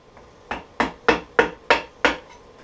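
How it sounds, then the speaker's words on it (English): Six sharp, evenly spaced hammer taps ring out close and loud as a small chisel is struck against a black walnut bowl held in a wood lathe chuck, each with a short woody decay. "hammering an object that is on the spindle"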